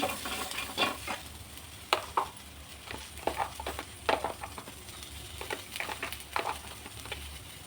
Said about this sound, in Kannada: ಚಕ್ಕೆ, ಲವಂಗ, ಗಸಗಸೆ, ಏಲಕ್ಕಿ ಇಷ್ಟನ್ನು ಹಾಕ್ಕೊಂಡು ಸ್ವಲ್ಪ ಹೊತ್ತು ಫ್ರೈ ಮಾಡ್ಕೊಳ್ಳೋಣ